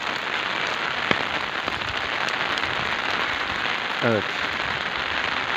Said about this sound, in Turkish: şu an yağmur iyice hızlandı